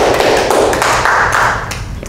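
A church congregation applauding, dense, loud clapping from many hands sustained for the whole stretch inside a worship hall, with no speech over it.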